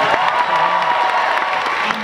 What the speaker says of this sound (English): Let's give them a round of applause for season one.